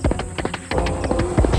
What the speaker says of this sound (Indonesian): Mereka bertiga naik ke kuda dan berlari ke arah teriakan itu.